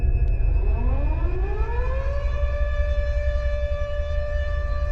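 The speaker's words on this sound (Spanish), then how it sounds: "la sirena del Colegio Romero sonó rompiendo el silencio de la noche como una afilada tijera" A civil-defense-style siren at the Colegio Romero wails at night, rising from a low growl to a steady, piercing sustained tone over a rumbling background, loud and alone.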